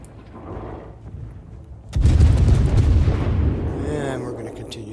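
Shells fire from the HMS Devonshire cruiser in the World of Warships game: a quiet rumble, then a loud, deep boom that sustains and rolls off over several seconds, with faint game effects trailing behind.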